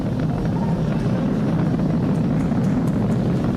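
SpaceX Falcon 9 rocket engines during ascent of a crewed launch, heard as a steady, loud, broadband roar with a deep rumbling low end, continuous and unbroken throughout.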